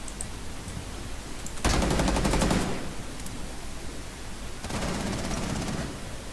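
Gunfire in the tactical shooter game Rainbow Six: two loud bursts of rapid automatic fire, each roughly a second long, separated by a quiet pause over a steady low background hum.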